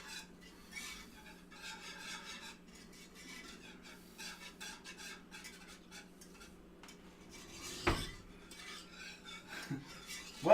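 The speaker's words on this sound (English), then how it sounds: "as I slowly heat that up, I'm going to continue to stir it" Spoon stirring a cornstarch sauce in a pan as it slowly heats, a soft continuous scraping and swishing with faint metallic clinks, quiet and close, one louder knock near the end.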